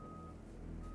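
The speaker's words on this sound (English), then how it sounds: "sorry if you can hear the construction beeping outside." Steady electronic reversing beeps from a construction vehicle outside, sounding continuously at a moderate distance over a low engine rumble.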